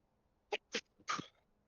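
A sneeze, heard faintly during a League tournament finals broadcast: a few sharp bursts over about a second, with the last one strongest, in a quiet room.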